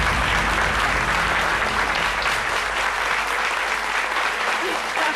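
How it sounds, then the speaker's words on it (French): Loud, dense studio audience applause fills a French-language midday talk show set, a continuous roar of many hands clapping close and steady throughout. "c'est tout ce que vous avez comme applaudissement pour moi?"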